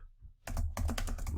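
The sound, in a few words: typing on a computer keyboard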